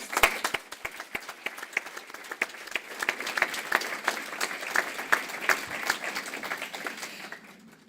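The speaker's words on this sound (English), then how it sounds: "Should we give them all a round of applause?" A crowd at an awards ceremony applauds, dense clapping building and holding steady for several seconds before tapering off.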